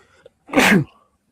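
A single sharp sneeze, loud and close, bursting out after a brief quiet moment and fading quickly.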